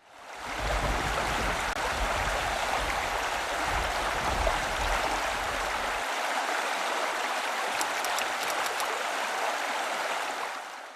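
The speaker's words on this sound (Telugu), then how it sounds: "కర్ణాటక నుంచి వరద నీరు రావడంతో కృష్ణమ్మ బిరబిరా పరుగులు పెడుతోంది" Floodwater of the Krishna River, swollen by inflows from Karnataka, rushes past in a steady, loud, continuous roar of flowing water. A deep low rumble underneath drops away after about six seconds, and no voices are heard.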